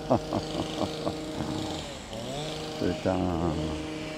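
A small petrol hedge trimmer engine revs and drones in the background, rising and falling in pitch, while a person talks over it.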